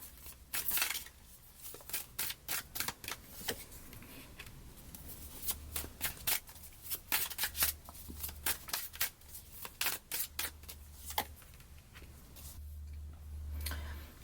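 An oracle card deck is shuffled by hand in a quiet room, a long run of crisp rapid riffling flicks and soft card slaps, close and clear with brief pauses and a low hum underneath.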